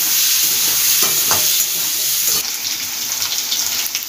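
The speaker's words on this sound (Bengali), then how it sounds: "এবার আলুগুলো দিয়ে দেব, দিয়ে একটু লাল লাল করে আলুগুলো ভেজে নেব।" Potatoes frying in hot oil in a pan, with a loud, continuous close-up sizzle and bursts of stirring and scraping over the steady hiss, with no voices.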